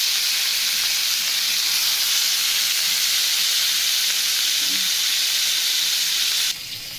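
Fish sizzling in hot oil in a pan, a steady close hiss of frying that runs unbroken and loud before dropping slightly near the end.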